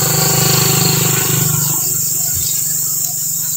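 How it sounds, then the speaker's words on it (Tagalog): A motorcycle engine on a night-time road, a steady drone at moderate distance that thins out partway through, with faint insect chirping and low background noise. "May paparating na motor."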